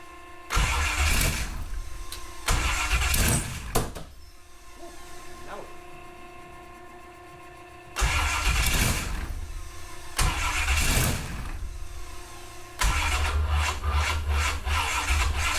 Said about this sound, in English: Fuel pump's on, let's start it.